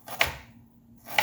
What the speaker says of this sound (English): We're going to give this a nice light chop.